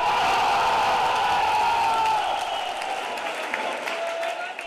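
Large home football crowd roaring after a Cameroonian forward scores, a dense, loud wash of cheering and whoops that holds steady and then eases slightly toward the end.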